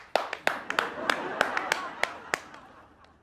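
Clapping in a Hindi TV sitcom scene: about nine crisp, separate hand claps in a steady rhythm, close and fairly loud, with a voice heard alongside.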